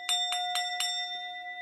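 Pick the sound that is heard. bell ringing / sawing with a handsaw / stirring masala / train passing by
bell ringing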